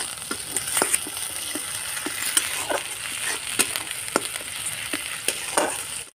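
Tomato fries in oil in a pan with onion for a raw banana kofta curry, a close, steady sizzle broken by repeated stirring scrapes and taps of the spatula.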